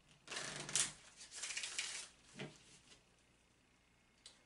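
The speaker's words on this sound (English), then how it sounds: "I'm going to take a few moments to shuffle the cards." A deck of Kipper oracle cards is shuffled by hand at a tabletop reading, giving a couple of brisk riffling bursts followed by softer, fading card rustles up close, with no speech.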